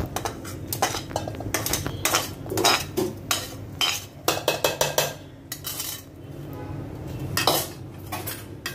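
Metal pots, lids and cooking utensils clank and scrape repeatedly while beetroot pulao is transferred into a pressure cooker in a home kitchen, close and busy with irregular clinks and knocks.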